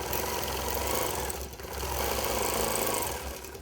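Longarm quilting machine stitching along appliqué, a close, steady rapid mechanical whirr with fast needle rhythm, briefly dipping mid-way before resuming, with no talk.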